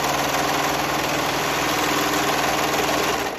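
A sewing machine stitches a knit skort waistband in one continuous, steady run, its motor hum and rapid needle chatter loud, close and unbroken.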